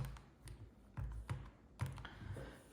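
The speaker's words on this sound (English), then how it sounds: "I can go into my calculator. And I can type this in exactly how it looks." Buttons pressed on a calculator while entering a cone volume calculation: a few soft, irregularly spaced taps and clicks, close and quiet, with no talking.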